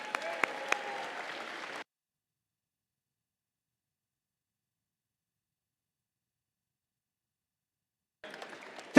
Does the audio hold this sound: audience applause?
yes